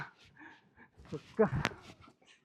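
A female German Shepherd dog whimpers and whines in short bursts close by, mixed with a person talking softly to it throughout.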